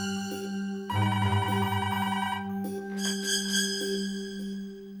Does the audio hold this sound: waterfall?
no